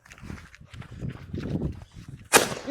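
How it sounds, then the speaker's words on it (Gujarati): Low rumbling and shuffling noise, then one sharp, loud firecracker bang close by near the end, during firecracker testing in Dhoraji. "જોઈએ કેવો કા ફટાકડો નીકળે છે."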